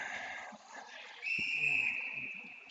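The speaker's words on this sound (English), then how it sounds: "Slow whistle on the ice." A referee's whistle sounds during an ice hockey game, a sustained shrill tone of about a second rising over the steady roar of the arena crowd.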